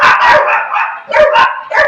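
Several dogs, including retrievers and French bulldogs, barking loudly and close by, sharp barks in quick bursts with a short pause midway before more barking.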